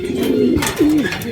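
A racing pigeon gives a loud, close, throaty coo in two rolling phrases, with no talk over it.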